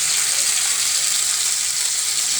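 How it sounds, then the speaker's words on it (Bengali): Hot water goes into a frying pan of dried fish, producing a loud, even, hissing rush that holds steady for the whole short stretch, close and without pauses. "বাইজা আবার গরম জল দিয়ে দিচ্ছি"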